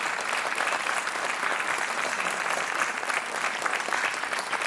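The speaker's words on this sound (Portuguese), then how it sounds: "É o Miguel Avelares, um aplauso para o nosso super joker esta noite." Studio audience on the Portuguese television quiz show Joker clapping for a contestant, a sustained and even burst of applause that fills the whole clip at moderate loudness.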